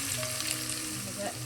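Vegetables for a pulao sizzle and fry in a hot pan while being stirred, a close, steady crackle with light scraping.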